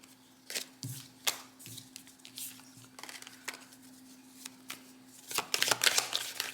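Tarot cards shuffled by hand, a series of soft riffling and tapping bursts that grow busier and louder toward the end, over a steady low hum, with no talking.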